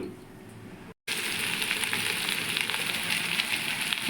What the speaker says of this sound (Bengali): ঝোলটা আমার ফুটে গেছে